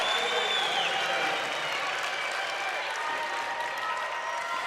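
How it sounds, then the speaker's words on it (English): Crowd at a women's college volleyball playoff match, a sustained roar of cheering and clapping from a gym full of spectators, loud and continuous with no break. "Listen to this crowd."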